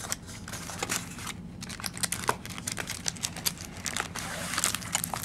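Foil wrappers of 2011 Finest football card packs crinkle and crackle as they are pulled from the box packaging, a steady close-up run of rustling with sharp tearing snaps throughout.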